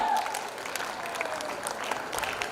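An audience at a school prize day gives steady applause for an award-winning student, a moderately loud, even patter of clapping hands, with a voice briefly at the start.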